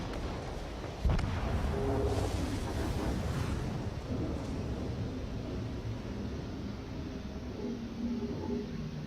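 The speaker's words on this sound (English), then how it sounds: "there's like 6 enemy ships shooting at me" Naval gunfire from enemy ships in World of Warships sounds as a heavy boom followed by a dense, continuous rumbling roar of cannon fire and explosions that persists throughout.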